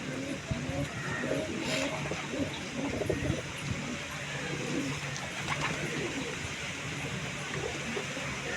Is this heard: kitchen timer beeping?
no